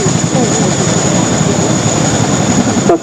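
A Royal Air Force Chinook twin-rotor helicopter reverses on the ground at an airshow, its engines roaring loud and steady with a high turbine whine and constant rotor rumble throughout.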